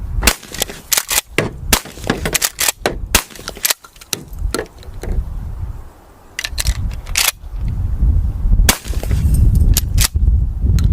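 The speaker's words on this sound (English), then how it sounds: "But instead of long range with the shotgun, We have 2 small pieces of center block with the license plate, so let's let her rip." Shotgun blasts crack repeatedly at close range, fired at small pieces of cinder block with a license plate, sharp reports arriving in quick irregular bursts over rustling ground noise.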